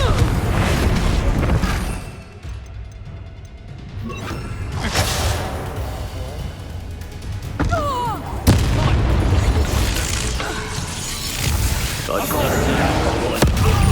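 Booming spell blasts from Confringo and Bombarda magic in the Hogwarts Legacy video game, several sharp explosive hits scattered through continuous game action and voices, loud and close.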